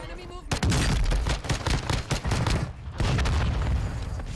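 Warzone 2 gunfire, rapid loud bursts of shots in two close volleys with a short pause between, harsh and booming up close.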